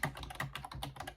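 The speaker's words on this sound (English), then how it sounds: "It does make a little bit of a sound as you're typing away" Keys clatter on a Logitech MK345 wireless full-size keyboard in quick, steady typing, each press a crisp, close click in a rapid run of strokes, fairly quiet and without any voices.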